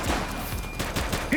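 Rapid gunfire rattles through a police shootout in the video game The Precinct, with dense bursts of shots layered over each other and a voice shouting in between.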